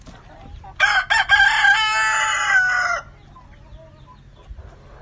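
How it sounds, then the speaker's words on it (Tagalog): A native chicken kept in a cage crows loudly and close by, one long drawn-out call of about two seconds, followed by quieter faint clucking. "yung ating native manok na nandun sa kabilang kulungan"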